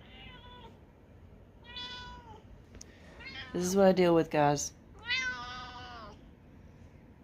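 A cat meows several times, short drawn-out cries close by, with a person speaking briefly in between.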